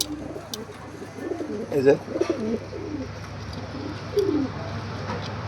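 Old native high-flyer pigeons coo in soft, low rolling bursts nearby, with someone speaking briefly over the birds and steady background noise.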